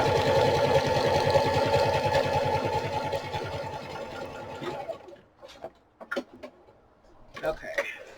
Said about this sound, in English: I got to pull the sewing machine forward at this point